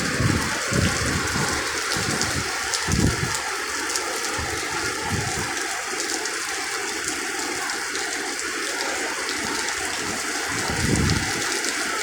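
Steady rain falls outdoors, a broad continuous hiss with occasional heavier gusts and low rumbles, no voices.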